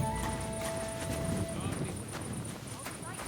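Horse hooves clip-clop in a steady rhythm in a medieval video game, with a voice speaking over them and a faint whinny in the mix.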